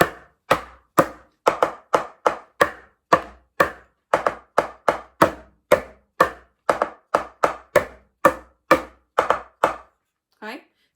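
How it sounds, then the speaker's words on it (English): A wooden spoon taps on a plastic tub, making a long run of sharp, close knocks in an uneven rhythm, some hits doubled, before a short pause and a faint trailing sound. "You get a different sound tapping on the end to tapping on the corner."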